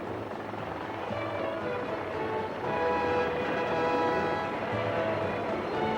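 A helicopter mustering cattle in Western Australia drones steadily throughout, a continuous rotor and engine hum holding at a fairly even level with a slight swell midway.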